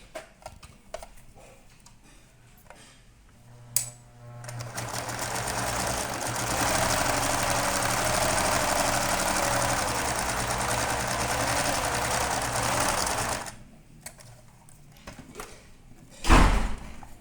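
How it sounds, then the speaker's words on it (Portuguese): Sewing machine running for about ten seconds while stitching the four sides of a small rabbit doll outfit, a steady whirring buzz with light handling clicks before and after. "Nós vamos para a máquina costurar os 4 lados."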